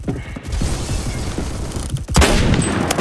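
Gunfire in the shooter game Phantom Forces, with several sharp shots and mechanical clicks and a loud blast burst near the end, close and punchy over game background noise, with no talking.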